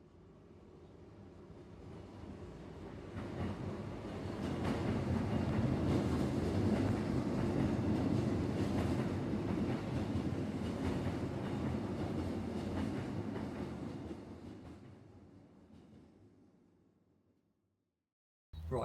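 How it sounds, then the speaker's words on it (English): A train crosses a bridge over the River Wey on a winter day, its rumble and clatter swelling from a distance to a loud steady roll before fading away. "Oh, I could hear a train."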